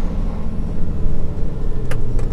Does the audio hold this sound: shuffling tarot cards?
no